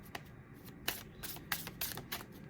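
Tarot cards are shuffled and pulled by hand, giving soft papery riffles and a few crisp snaps in short bursts, quiet and close with no speech.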